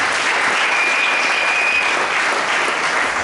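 A church congregation applauds to acclaim Jesus during a Sunday worship service, steady sustained clapping from a large crowd filling the room for a few seconds, with no speech over it.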